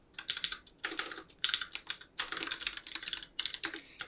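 Rapid, irregular clatter of keys on a computer keyboard while code is typed, bursts of keystrokes separated by short pauses, close and clear with no talking.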